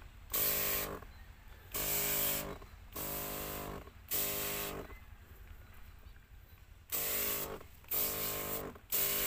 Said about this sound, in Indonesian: Ini nanti kita semprot seperti ini.